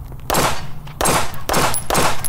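A Glock pistol fired with a Sig magazine, several loud, close gunshots spaced about half a second apart, each with a sharp crack and ringing tail.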